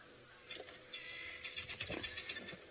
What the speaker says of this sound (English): The guinea fowl are alarming right here.